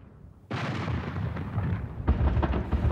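Airstrikes on Islamic State targets set off a deep, rumbling blast that rises abruptly and rolls on, followed by a second heavy explosion, loud and booming with no voices over it.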